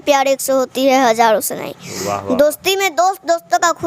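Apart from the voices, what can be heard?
No everyday noises stand out.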